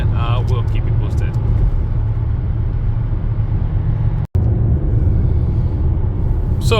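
A car cruising on a highway, with a steady loud low rumble of engine and road noise throughout and a brief dropout partway.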